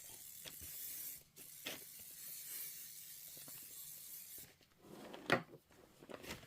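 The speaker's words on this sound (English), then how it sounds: "I'm going to give it a little shot of spray." Spray adhesive aimed at quilt fabric inside a spray tent during mini quilt assembly, a faint hissing spray with a few short bursts and soft handling rustles, quiet and close.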